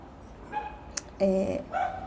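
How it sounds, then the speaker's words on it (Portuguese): Dogs barking somewhere nearby in a quiet setting, a few short tonal yaps and barks in scattered bursts, moderately loud, with a sharp click between them. "Do nada, os cachorros decidiram que eles iam latir pra cá"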